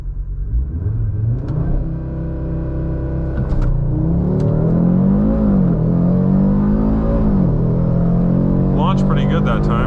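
2024 Audi RS3 launching from a stop on a drag run, a loud close engine rising through rising-pitch sweeps with brief dips at gear shifts, pulling continuously.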